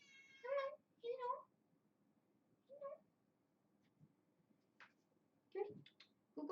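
A domestic cat meows indoors, close by: three or four clear, drawn-out meows in the first few seconds, then softer scattered sounds and a couple of shorter, rougher calls near the end.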